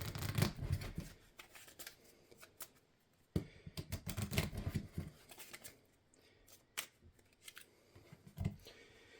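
Cards are shuffled in riffling bursts, close and crisp, with quiet pauses between two or three rounds of rapid flicking.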